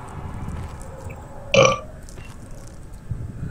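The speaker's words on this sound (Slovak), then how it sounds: "Sorry, že ti grgám, ale proste nedá sa" A single loud, guttural burp erupts close to the microphone during a late-night Amnesia: The Dark Descent gaming session, lasting about a second over a low background hum.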